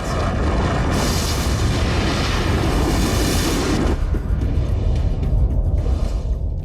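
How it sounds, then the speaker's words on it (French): A loud, sustained explosive roar with a deep rumbling boom, a bright rushing burst that fades into lingering low rumble after a few seconds. "la terrible beauté d'une explosion hyper dramatique"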